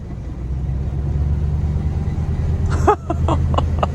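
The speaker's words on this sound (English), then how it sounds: "Oh God, the brakes sound so bad." A V8-powered 1976 Mercedes 240D rolls along with a steady low engine rumble, then a brief scraping, squealing burst near the end that fits a dragging brake; the sound is close and continuous.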